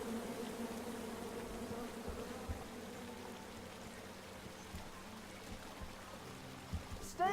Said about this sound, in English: There's a beehive. Come at me, bees!